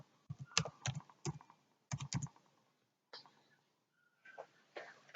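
Keystrokes on a computer keyboard while a component name is typed into Proteus circuit software, in quick clustered bursts of close, crisp clicks separated by short pauses.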